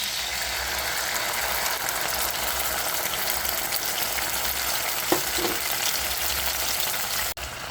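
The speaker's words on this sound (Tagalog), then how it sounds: "nagisa na yung sardinas" Sardines sautéing in a pan with garlic and red onion give a steady, close frying sizzle that keeps going, with a couple of faint utensil knocks near the end.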